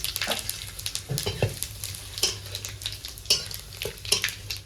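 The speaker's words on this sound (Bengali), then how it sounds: "তেলের উপরে দিয়ে দেবো কটা গোটা জিরে আর তেজপাতা" Whole cumin seeds and bay leaves sizzle and crackle in hot oil in a pan, a steady close frying hiss broken by scattered pops and a few soft utensil knocks.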